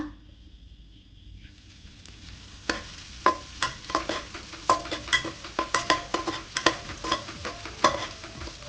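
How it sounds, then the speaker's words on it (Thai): Garlic and chili stir-fried in a hot pan with oil, a soft sizzle rising after a quiet start, then rhythmic close scraping strokes of a spatula against the pan. "อ่าแล้วก็ใส่กระเทียมกับพริกลงไปนะคะ"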